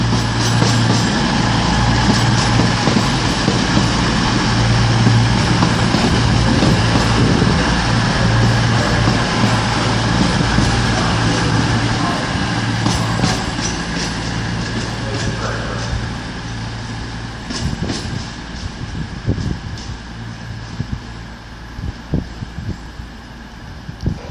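Class 220 unit 220014 on a Plymouth to Edinburgh service at York station on the East Coast Main Line, a steady loud diesel rumble and hum with wind buffeting, easing slightly toward the end.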